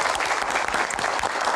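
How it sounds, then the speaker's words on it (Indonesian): Dense, steady applause from an audience for panelists at an evening Q&A event, loud and continuous throughout with no talk over it. "Tepuk tangan para panelis."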